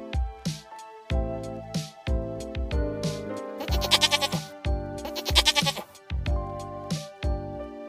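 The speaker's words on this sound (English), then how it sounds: "Sheep." Sheep bleat loudly and repeatedly up close, a series of wavering, nasal cries with short pauses between them.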